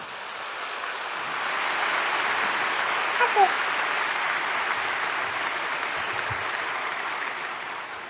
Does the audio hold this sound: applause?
yes